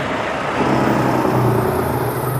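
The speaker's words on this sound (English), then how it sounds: "That's a heavy loading truck there." Heavily loaded truck rolling past: a continuous low rumble of engine and tyres that swells slightly midway, heard fairly close with no speech.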